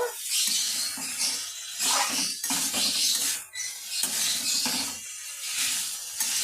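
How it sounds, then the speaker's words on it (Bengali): Boiled chickpeas being stirred with a ladle in a pan for chola bhuna, giving steady scraping and clinking of metal against the pan under a continuous frying sizzle, with brief pauses between strokes. "দু হাতা এইভাবে আমি একটু নেড়ে চেড়ে নেব।"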